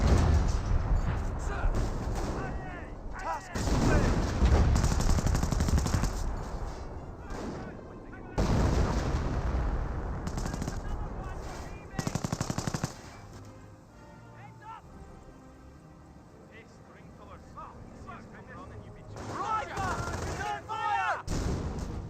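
Machine gun fire suppressing pioneers in Company of Heroes 1 comes as dense bursts of rapid gunfire and booming impacts in several loud stretches, with quieter gaps between, while a voice talks over much of it.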